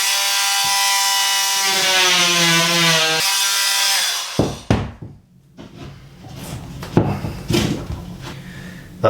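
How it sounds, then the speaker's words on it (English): A power drill boring a cable hole in a boiler cupboard: a loud high whining motor pitch sweeping for several seconds, then stopping, followed by knocks and scraping handling noises. "I'm going to obviously be drilling this"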